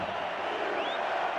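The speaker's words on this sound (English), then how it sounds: "This crowd trying to help their defense off the field." A football stadium crowd roars steadily and loudly to help the defense get off the field, a dense, continuous wall of cheering with no breaks.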